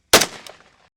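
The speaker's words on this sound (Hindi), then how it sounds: "गोलियां दागी जाती रहीं।" A single sharp, loud bang with a short ringing decay, a gunshot during a police encounter in Punjab, standing alone with no talk.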